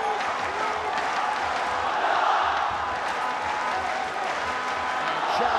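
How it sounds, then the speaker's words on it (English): A ONE Championship fight crowd in Yangon roars steadily throughout, a dense wash of cheering and shouting with horns and drums blended into the continuous loud din, like a football stadium crowd. "they are playing drums. It sounds like a soccer crowd, a football crowd, but it's a one championship Yangon crowd."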